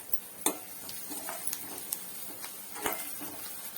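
Chopped spiny gourd (kantola) tossed into a pan seasoned with turmeric and coriander, giving a soft sizzle with scattered stirring clinks and scrapes of a utensil against the pan.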